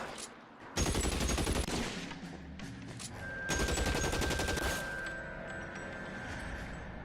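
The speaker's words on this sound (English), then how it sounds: "Who's shooting at me?" Gunfire in the video game L.A. Noire, loud bursts of rapid shots in two long volleys with a ringing tone between, no talk over it.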